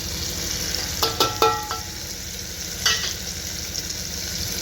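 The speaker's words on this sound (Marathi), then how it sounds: "त्याच्यानंतर आता मसाला घालतोय आपण त्याच्यात." Masala spices being added to a frying mix of dal and rice for khichdi, a steady sizzle with a few sharp spoon clinks against the pot as the mix is stirred, close and alone.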